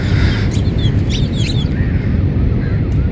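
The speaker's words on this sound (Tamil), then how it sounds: "எக்கச்சக்கமான குருவிகள சத்தமெல்லாம் கேட்குது." Many sparrows chirp at once in a loud, dense chorus of short, quick tweets over steady broadband background noise.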